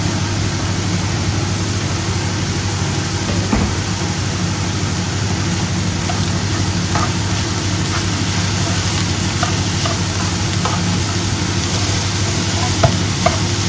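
Rice with peas and spring onions fries in a pan with a loud, dense, continuous sizzle, faint stirring clicks scattered through, and a steady hum underneath.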